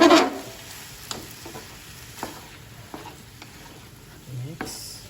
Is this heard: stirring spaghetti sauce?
yes